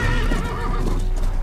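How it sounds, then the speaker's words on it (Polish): A horse whinnies loudly up close with hooves clip-clopping beneath it, a game sound effect from Call of Juarez: Bound in Blood. "Nie mogę użyć tego konia."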